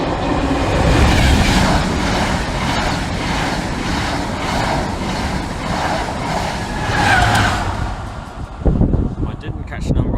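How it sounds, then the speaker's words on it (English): A non-stop passenger train runs through Stowmarket station on the way to Norwich, a loud rolling roar with rhythmic wheel clatter that swells and fades as it passes close by. Talk is heard toward the end. "The next train to pass Stowmarket is a non-stopper and it's from Whittam to"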